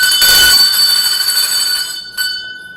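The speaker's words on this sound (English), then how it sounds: "Yes, ring the bell. Ring the bell." A bell rings loudly with a bright metallic tone, starting with a strong strike, sustaining and fading over a couple of seconds before a second lighter strike near the end.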